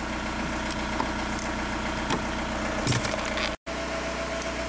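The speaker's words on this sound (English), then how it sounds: "I did hear a change in the tone of the engine" A VW TDI diesel engine idles steadily and continuously, a dense low rumble with a few brief knocks and a momentary dropout near the end.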